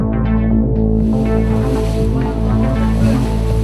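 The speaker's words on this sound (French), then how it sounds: "Le bateau, il fonce dans la nuit, il rebondit sur les vagues" An IMOCA racing sailboat charges through the night, slamming and bouncing over waves: a loud, continuous rush of water and wind noise with a throbbing low rumble and rhythmic surges from the hull.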